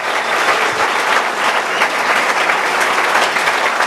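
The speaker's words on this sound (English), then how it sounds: "How about a round of applause for Mr." An audience applauds Lionel Sanders: a loud, continuous roar of many hands clapping at once, dense and unbroken throughout.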